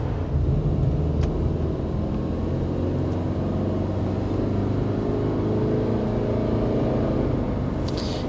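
A 2024 Subaru Crosstrek with standard symmetrical all-wheel drive accelerating gently, a steady low engine drone and road rumble heard from inside the cabin, continuous and moderately loud with no talking.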